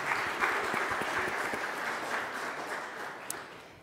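Steady applause from a small church congregation fills the room, a continuous patter of clapping that slowly fades.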